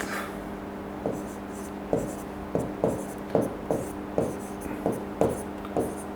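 Marker or chalk writing on a board during a lesson on bones, giving a series of short scratchy strokes at a steady rhythm against a hushed room with no speech.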